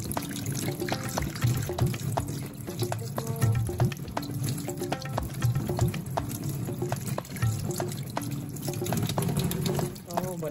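Tap water running in a sink while a lionfish is washed in Jamaica, a steady close splashing trickle with small knocks and clatters, voices speaking over it.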